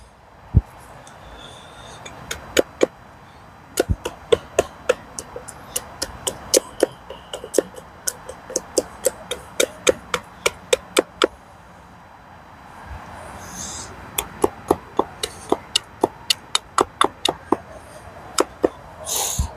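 A hand axe chops and trims birch wood into a rough spoon shape at a camp: close, sharp knocks come in quick runs, pause midway, then resume in a steady rhythm with no talk.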